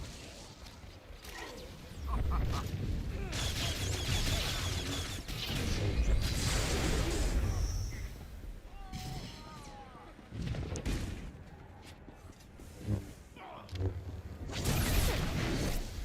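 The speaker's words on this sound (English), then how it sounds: "Just wait until you see the football explosion." Combat effects from the online game Star Wars: The Old Republic, including a big explosion: a busy run of booming bursts, whooshes and crashes at moderate volume, rising and falling over several seconds.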